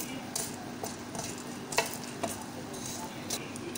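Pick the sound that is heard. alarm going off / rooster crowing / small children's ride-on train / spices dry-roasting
spices dry-roasting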